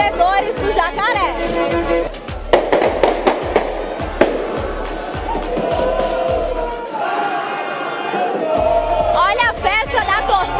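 Football fans of Altos at Albertão stadium celebrate the team's arrival before the Piauiense 2024 final with rhythmic drumming, bursts of firecrackers and fireworks, and crowd shouting, loud and sustained, with an announcer's voice over the noise.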